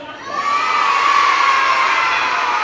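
Schoolchildren in a fire prevention assembly shout answers together, a loud, sustained crowd of young voices swelling after a brief quieter start and holding for several seconds.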